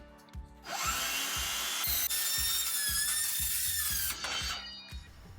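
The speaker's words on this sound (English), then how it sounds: "I'll use our Hilti metal cutting circular saw here to make the cut." A Hilti metal-cutting circular saw slices through a metal clip-on ceiling panel, giving a loud, sustained high-pitched whine and screech that holds for several seconds after spinning up, with a low rhythmic thumping underneath.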